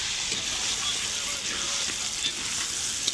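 Meat (gosht) frying in a hot pan before spices go in, a continuous close sizzle with intermittent stirring scrapes, loud and steady throughout.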